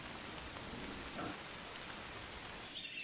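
Steady rain falls in a forest, a dense, even hiss of drops on leaves and ground at moderate level, with no voices and no let-up through the stretch.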